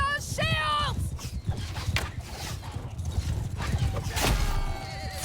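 Horses galloping in battle in Mount and Blade Bannerlord, with thudding hoofbeats under combat clatter and sharp whinnies near the start and again toward the end.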